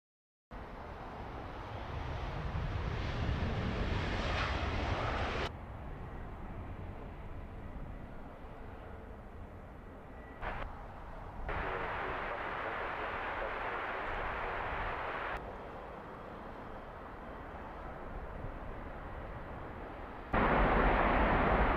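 Steady broad roar of aircraft at Heathrow Airport, continuous jet rumble and hiss over the whole stretch with a few abrupt shifts in level, distant and uninterrupted, no voices.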